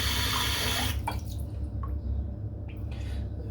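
Tap water runs steadily for about a second to soak a shaving brush, then cuts off, leaving a few scattered drips and small splashes in a quiet sink.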